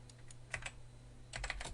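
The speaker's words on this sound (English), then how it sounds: "if we type" Quiet computer keyboard typing in two short bursts of clicky keystrokes, near and faint, over a steady low electrical hum.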